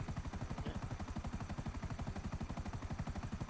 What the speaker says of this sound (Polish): Już wziąłeś ten helikopter?